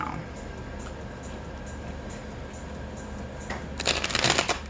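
A deck of motivational cards is shuffled close by, a soft papery riffle over background hum that swells into a louder burst of flicking cards near the end.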